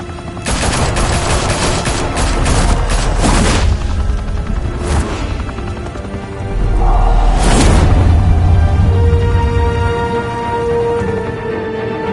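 Heavy gunfire erupts in a Batman: The Telltale Series game scene, loud bursts of automatic fire with booming impacts, pausing and then flaring again, no voices over it.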